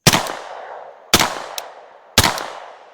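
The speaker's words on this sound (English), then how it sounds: "So let's go ahead and take a few shots with it." Three loud, evenly spaced shots ring out from an AKv9 9mm rifle at a shooting range, each a sharp crack followed by a short echoing decay, close to the listener with no speech.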